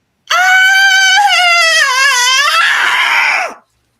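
A woman screams in a horror scene set at Christmas, a long, loud, sustained shriek with a wavering pitch that lasts about three seconds and then breaks off abruptly.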